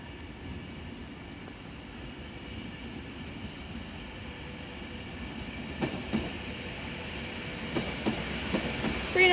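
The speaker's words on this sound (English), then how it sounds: "Now arriving is the 1310 Avanti West Coast service from London Euston to Manchester Piccadilly, being worked by a Class 390 Pendolino." Avanti West Coast Class 390 Pendolino electric train from London Euston arriving at Crewe on the West Coast Main Line, a steady rumbling approach that grows slightly louder, with faint rail clicks toward the end.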